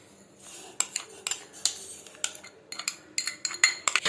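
A spoon stirs sugar into boiled milk for homemade kulfi, giving a run of quick metallic clinks and scrapes against the pot that grow denser and sharper toward the end.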